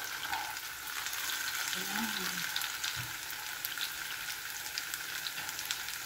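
Hotdogs frying in a pan with a continuous close sizzle and crackle, plus a few soft stirring knocks.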